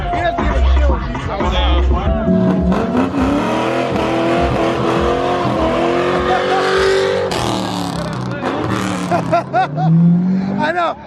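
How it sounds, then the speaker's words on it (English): A car pulls a burnout outside a car show with police nearby, its engine revving hard and tires squealing loudly, while voices shout and talk over the noise throughout. "Do a burnout. Do a burnout. Burnout."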